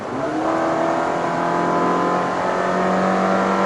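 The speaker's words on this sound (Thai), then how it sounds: "เสียงเครื่องมันดังมากดังมากเหมือนอยากให้รู้ว่า แรง" A car engine revs up loudly and holds at a high, sustained roar, close by.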